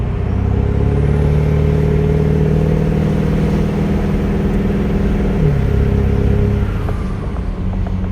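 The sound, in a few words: diesel truck with 8-inch smoke stack at full throttle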